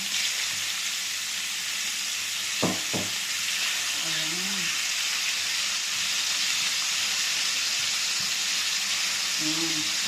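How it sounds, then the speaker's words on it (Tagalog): Constant loud sizzling of pork frying in a pan, with a couple of utensil knocks and brief murmuring voices in the background. "Prito na natin itong pork natin."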